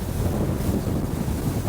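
An Arksen Discovery 8 motor boat runs at fast cruising speed through rough seas, its engines turning about 6,000 RPM. A steady, dense roar of hull, water and wind buffeting fills the whole stretch, close and continuous.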